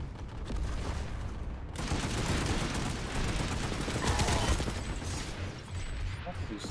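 A Magrider tank firing in Planetside 2, rapid bursts of gunfire and mechanical clatter rising and falling under occasional speech.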